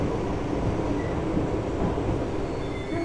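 Old Island Line train on the Isle of Wight, a steady rumbling roar of the carriage running along the rails, heard from inside, with rattling and faint squeals.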